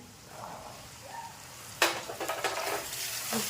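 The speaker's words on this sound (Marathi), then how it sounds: "चांगली परतून घ्यायची या प्रकारे मिक्स करून घ्यायचे सगळं" Chickpeas are tossed into a pan with onion and spice masala and stirred, giving a sudden burst of sizzling followed by a few scraping stirs, close and moderately loud.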